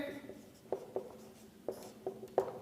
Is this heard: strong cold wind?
no